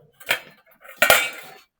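Metal utensils and dishes clatter in two separate bursts, each a bright, ringing jangle of cutlery against plates, close and loud, with nobody speaking.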